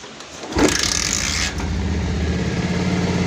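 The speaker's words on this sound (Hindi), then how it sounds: "तो गाड़ी हमारी स्टार्ट हो चुकी है," A vehicle engine starts from cold. A short whirring crank sound comes first, then a steady low idle rumble settles in and runs on alone.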